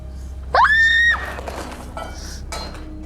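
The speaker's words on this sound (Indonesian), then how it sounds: "Dan kamu teriak sekencang-kencangnya." A person lets out one loud, shrill scream during a spiritual cleansing ritual. The cry rises sharply and holds for about half a second, then quieter clatter and rustling follow.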